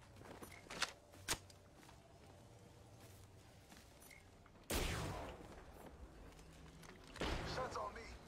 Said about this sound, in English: Shots on me.